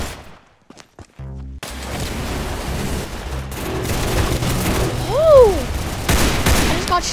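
Gunfire in the Roblox game Arsenal: loud, dense bursts of rapid shots that roll on almost continuously, mixed with other busy in-game sound effects.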